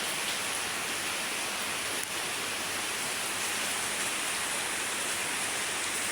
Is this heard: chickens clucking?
no